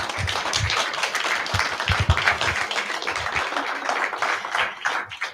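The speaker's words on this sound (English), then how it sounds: "Can we have a round of applause?" Applause from a research symposium audience, a few seconds of moderately loud clapping with uneven, scattered claps rather than a tight unison, fading slightly toward the end, no voices over it.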